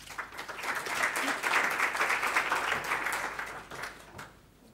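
Audience applause welcoming a lecturer at a talk on the Lebanese Code of Medical Ethics, a steady roomful of clapping that swells, holds for several seconds, then thins out toward the end.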